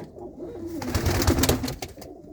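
Pigeons coo in a brief run of soft, low, throaty calls, close by and alone, rising and falling over about two seconds.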